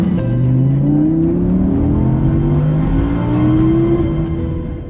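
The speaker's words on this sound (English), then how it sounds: "in order for me to show you the way the R8 V10 Performance delivers its power and picks up speed" An Audi R8 V10 Performance with a 620 bhp engine accelerates hard, its loud, close revs climbing and shifting through gears in a steady rising howl with no voices.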